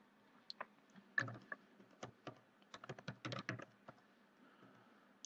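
Quiet, close typing on a computer keyboard as data is entered into an Excel spreadsheet; irregular bursts of light key clicks, denser toward the middle, with no talking.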